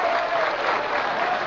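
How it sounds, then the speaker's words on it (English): Miners thundering applause in a theater in a radio drama, a dense, loud wash of clapping from a large crowd, sustained evenly through the whole short stretch. "the miners thundered their applause"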